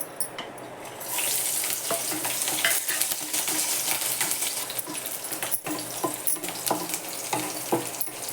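Garlic and green chilies hit hot oil in a pan for a Malabar spinach vegetable dish, giving a loud, steady sizzle that runs continuously with a few clinks of stirring.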